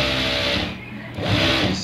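Sewing machine stitching a double-sewn curved hem on a men's shirt, sewing through a pocket opening: a loud, rapid mechanical whir that pauses briefly in the middle and then resumes.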